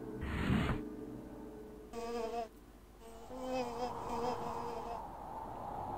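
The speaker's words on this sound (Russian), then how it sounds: "пролетают пчелки" Buzzing bees flying past in the point-and-click game Samorost, a wavering insect hum that rises and falls over several seconds amid other soft game sounds, fairly quiet.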